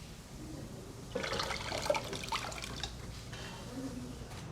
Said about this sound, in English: I'll just drop them into this pot like this, and then pour chicken stock over the top.